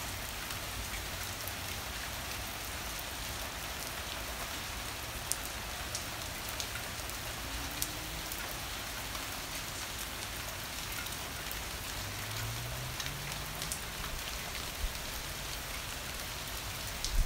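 Steady rain patters down on a surface in California in 2019, a dense continuous hiss with occasional louder drops and no voices.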